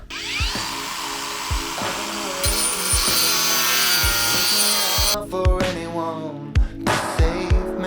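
A Ronix cordless angle grinder whines loudly while making repeated cuts, the grinding rising to a harsh, bright roar, with repeated clicks and knocks throughout.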